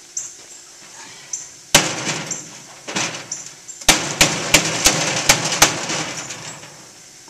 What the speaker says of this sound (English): took a board, slipped it up under there to use as a backer, and then just tapped it a little bit